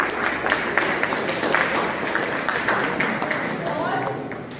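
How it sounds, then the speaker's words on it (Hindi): Audience clapping in a school assembly, a broad steady patter of many hands filling the room throughout, with a voice or two mixed in. "अपने लिए तो ताली बजा दो कम से कम."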